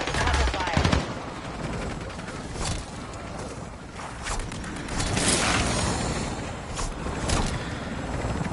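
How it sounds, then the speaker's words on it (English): Sustained automatic gunfire in the zombie mode of the video game DMZ, dense repeated bursts of shots over a busy mechanical and ambient backdrop, loud and continuous, with game dialogue faintly mixed in. "lay down some cover fire"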